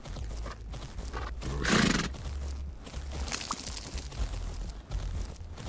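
A horse cantering in the Fernhoof Grove video game, rhythmic hoofbeats drumming steadily with a sudden loud neigh partway through, set against a muffled game soundscape.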